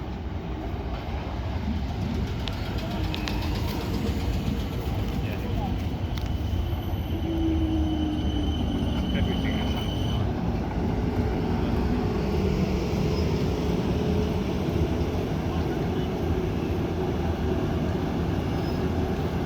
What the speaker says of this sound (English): approaching now is the slightly delayed 12:34 South Western Railway service to London Waterloo